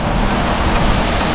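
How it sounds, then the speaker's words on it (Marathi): Princess Louise Falls, a waterfall in Orleans in Ottawa's eastern suburbs, gives a steady, full-bodied rush of falling water, continuous and fairly loud with no voices over it. "पाण्याचा मंजूळ आवाज ऐकू यायला लागलाय मित्रांनो."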